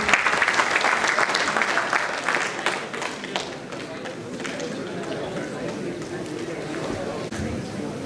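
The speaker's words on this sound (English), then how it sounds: "The clap should not stop." Sustained applause from a conference audience at a Lucknow security event fills the hall, loud at first and easing slightly to a steady patter, with some crowd murmur mixed in.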